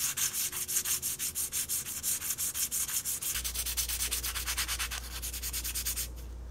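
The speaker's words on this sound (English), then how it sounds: "I'm going to sand this smooth area of the plaster" Steady back-and-forth sandpaper scraping over hard plaster for a diorama, rhythmic rasping strokes close up, with a low hum joining partway through.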